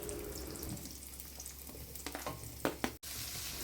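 Onions frying in oil in a pan over a gas flame, a close, continuous soft sizzle with a few sharper crackles and clinks from stirring toward the end.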